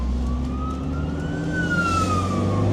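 A police siren wails outside, its rising and falling tone steady and fairly clear over a low background rumble, with no talking.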